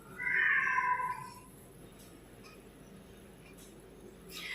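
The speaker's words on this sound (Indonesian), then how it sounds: "Sebentar Aquarius, itu suara kucing aku." A pet cat gives one clear, fairly loud meow at the start, followed by a quiet room with faint small noises and no talk.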